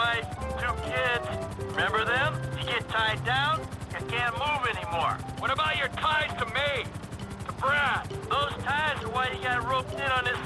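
A helicopter flies in the video game GTA V, its steady whirring rotor running under near-constant talking.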